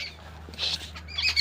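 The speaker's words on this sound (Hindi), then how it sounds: "देखो चिड़ियाँ चहचहा रही हैं" Birds chirping in a fruit orchard, a few short bright calls spread across the moment over a low steady hum, fairly close and clear.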